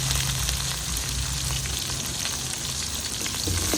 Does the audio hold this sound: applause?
no